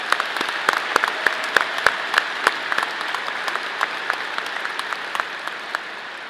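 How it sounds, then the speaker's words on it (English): An audience at an engineering college commencement ceremony applauds after the national anthem, a moderate, steady patter of many hands with sharper individual claps popping out, heard from some distance in a large hall. "let's give her another round of applause for that great national anthem."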